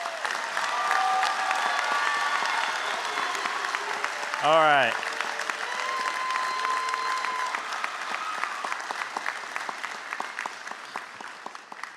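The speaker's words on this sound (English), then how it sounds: "Let's give them all one round of applause." A crowd at a fire department recruit academy graduation ceremony applauds in a sustained, even wash, with a voice speaking briefly partway through.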